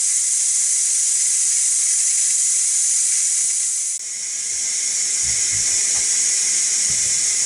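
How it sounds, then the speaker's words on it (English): A Ninja Foodi Deluxe pressure cooker on quick release vents steam in a steady, loud, close hiss that runs the whole time, dipping briefly midway before resuming with faint background knocks. "we'll go ahead and put a quick release on it and get it out."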